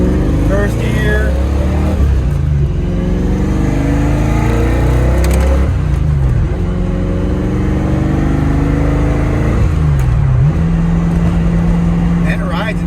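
A 1991 Ford Mustang engine revs up and down through several gear changes, pitch climbing then dropping with each shift, loud and close throughout.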